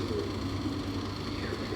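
Domestic pigeons offered for sale give soft, low cooing close by, murmuring steadily over a faint background hum without talk.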